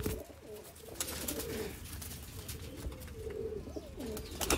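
Teddy pigeons coo repeatedly in soft, rolling calls close by, a steady run of throaty coos over low background noise.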